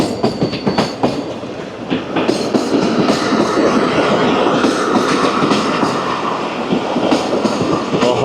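A passenger train, the Shah Latif Express, runs on rails through the Thar Desert, giving a steady loud rumble with repeated clickety-clack wheel beats and rattling coaches, with no voices.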